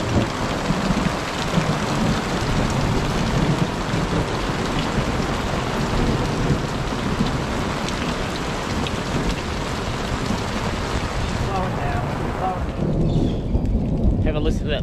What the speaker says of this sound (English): Have a listen to that thunder